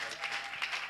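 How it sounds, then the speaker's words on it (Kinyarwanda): Short burst of congregation clapping during a church service, a few quick uneven claps over a faint sustained tone, moderately quiet. "Pigeni Mungu makofi."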